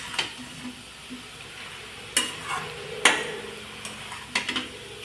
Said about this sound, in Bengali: সব কিছু মিশিয়ে ভালো করে